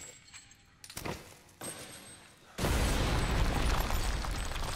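Bomb blowing up a basement in Resident Evil Village: a couple of sharp thumps and rattles, then a sudden loud blast that gives way to a sustained roaring rumble of debris and fire.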